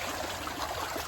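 Water flowing steadily in a forest stream, a faint continuous trickle and wash heard alone.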